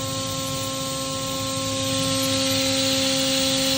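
Makino F5 machining center, a 2011 machine, with its spindle spinning at 16,000 RPM: a steady high whine with constant tonal hum and hiss, continuous and even throughout, no voices.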